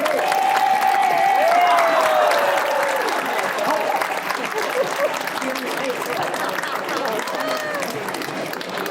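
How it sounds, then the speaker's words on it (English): Shopping-mall audience at Holyoke Mall applauds and cheers for a fitness figure, a loud, sustained sheet of clapping with a voice carrying over it at first, then steady crowd applause continuing to the end. "Thank you very much for that round of applause."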